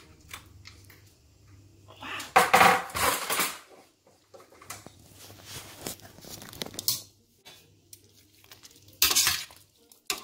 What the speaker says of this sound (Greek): Ανοίγουμε το καπάκι.